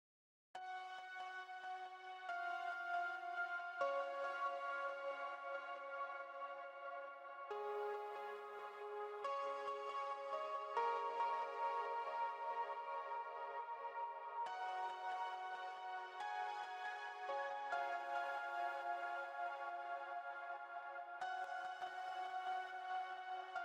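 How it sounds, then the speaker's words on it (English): Soft piano chords from a Nexus plugin in an electronic music production sustain and shift through several changes, playing quietly and without bass or talk. "it's just a Nexus piano, and it sounds like this"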